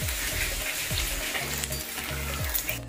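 Large egg pieces frying in hot oil give a steady, close sizzle and crackle, with occasional soft stirring scrapes beneath the hiss.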